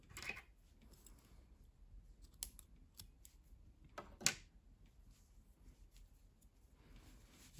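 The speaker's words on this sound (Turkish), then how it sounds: "İpliği kesiyorum." Scissors snip through knitting yarn in a quiet indoor setting, with a few short, crisp cuts close to the microphone and faint handling sounds between them.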